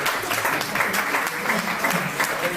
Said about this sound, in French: Et je vous demande merci de l'applaudir aussi.